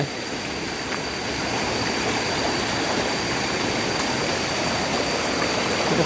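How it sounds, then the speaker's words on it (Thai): Stream water rushes steadily near a jungle waterfall on a mountain trek in Laos, a continuous broadband roar that stays loud and even throughout, with no talking. "โอ้ส่วนนี้น้ำไหล"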